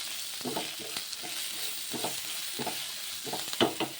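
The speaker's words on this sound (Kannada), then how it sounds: "10ರಿಂದ 15 ಗೋಡಂಬಿ, ಇದನ್ನು ಸ್ವಲ್ಪ ರೋಸ್ಟ್ ಮಿಕ್ಸ್ ಮಾಡಬೇಕು." Ten to fifteen cashews roasting in a pan, with a soft steady sizzle and repeated scraping strokes of a spoon stirring them at a moderate rhythm, close and fairly quiet with no talk.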